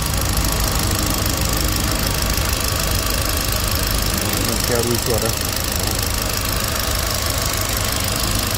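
A 2016 Kia Morning 1.25 manual idles with a dense, steady engine drone that runs throughout without change, while someone speaks over it.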